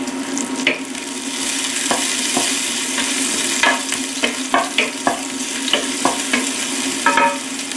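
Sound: stir-frying garlic chives with ginger and garlic

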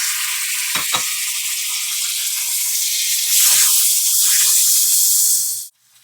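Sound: tomatoes sautéing in a pan with crushed chili

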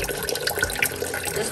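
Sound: water trickled back into reptile enclosure

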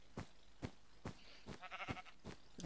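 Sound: sheep bleating in video game Minecraft

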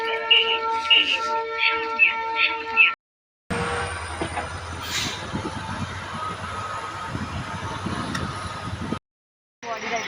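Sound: train arriving at station

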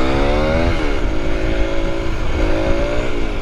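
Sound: 125cc motorcycle engine during coaster wheelie

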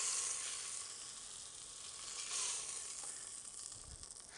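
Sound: beef short ribs and bacon sizzling as fat renders

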